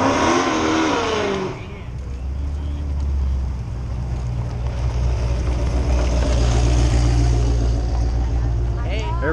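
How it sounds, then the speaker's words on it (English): Chevrolet Chevelle from Pekin passing on the road, a loud low engine rumble that swells and holds close by while people talk over it. "There's that Chevelle from Pekin."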